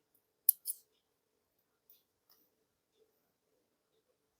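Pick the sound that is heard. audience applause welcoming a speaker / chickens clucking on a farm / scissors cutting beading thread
scissors cutting beading thread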